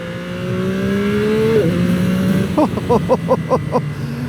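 A 2025 Yamaha R9 motorcycle engine runs on country roads, loud and close, with a steadily rising tone. It then stutters through a quick run of rhythmic pulses that sound like shifts or throttle blips.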